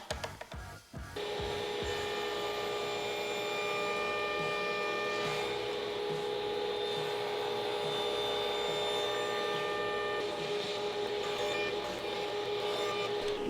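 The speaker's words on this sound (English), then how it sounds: "Now I am back at my table saw." Table saw with a crosscut sled running steadily and loudly after a brief start, a continuous whine with a strong hum and no distinct cut peak, nearby with no talk.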